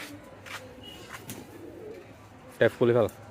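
Pigeons coo softly in short bursts near the end, following quiet rustling and faint background noise.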